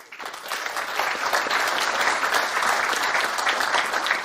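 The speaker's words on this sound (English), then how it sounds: "A warm round of applause for all three presidents" A large audience at a security conference applauds three presidents, with dense, sustained clapping that swells within the first second and holds steady and loud to the end.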